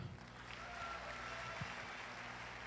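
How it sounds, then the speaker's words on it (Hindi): Audience applause at a business event in India, a steady, dense wash of clapping that carries evenly from start to finish. "बजाओ इस बात पे तालियां।"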